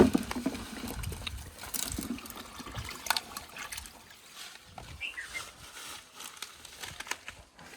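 Water trickles and splashes in a barrel where calotropis (aak) leaves are soaked, with a louder pour-like burst at the start that settles into softer dribbling and faint rustling, close by and with no talk.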